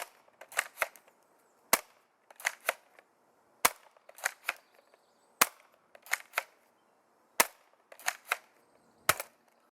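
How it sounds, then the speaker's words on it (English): Modified Nerf Strongarm blaster fitted with an Orange Mod Works Stage 2 kit and rear loading, firing foam darts outdoors: a series of sharp, snappy cracks, single and in quick clusters of two or three, spaced over about ten seconds with no voices. "So I'm going to be shooting this as flat as possible."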